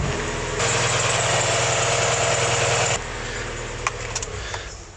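A Mazda MX5 Miata engine runs at a steady idle close by after new spark plugs, oil and air filter, with a rougher, louder burst in the middle before settling back to a low rumble and a few clicks.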